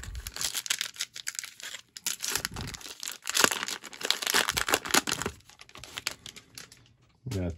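Close-up crinkling and tearing of a foil 2021 Topps Series 2 trading card pack being opened, a run of irregular crackly rips and rustles with short pauses, and a brief bit of talk near the end.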